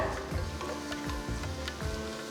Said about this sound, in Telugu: సో ఇప్పుడు ఉల్లిపాయల్ని మంచి ఒక గోల్డెన్ బ్రౌన్ కలర్కి వచ్చే వరకు దీన్ని వేయించాలన్నమాట